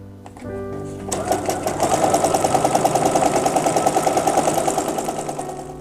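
A sewing machine runs steadily after a brief start, its needle knocking in a fast, even rhythm as the stitching follows the presser foot edge around a corner; close and loud, no talk.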